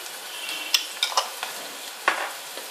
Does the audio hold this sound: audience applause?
no